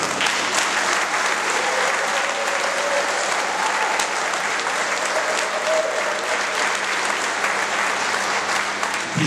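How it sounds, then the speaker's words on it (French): Sustained, dense applause from a concert audience in Bousies after the municipal harmonie brass band performs, steady and loud for the full span with no talk over it. "on va encore vous applaudir toutes et tous très très fort"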